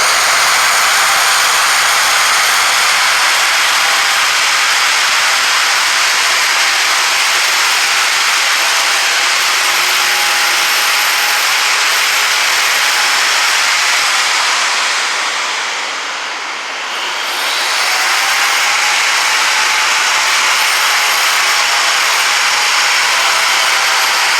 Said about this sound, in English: The grinder itself is going to do all the grinding and work.